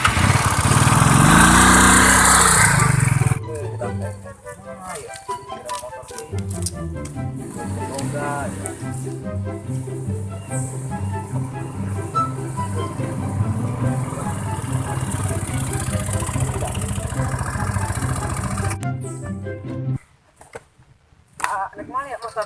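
A motorcycle engine runs steadily with a rough, throbbing idle at close range after a loud burst of noise at the start, then cuts off sharply near the end.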